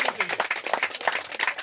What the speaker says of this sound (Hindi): जोर से तालियां होनी चाहिए।